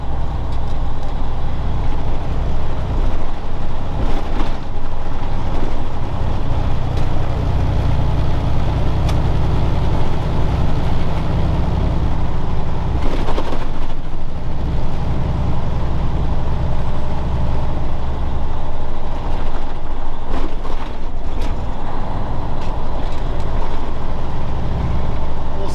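Freightliner truck cab rattling while driving down the road, a constant loud engine and road roar with interior cabinet rattles and occasional louder knocks, close inside the cab, no speech.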